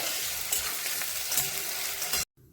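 Paneer fries in hot oil in a pan, giving a steady, close sizzle that cuts off abruptly just before the end.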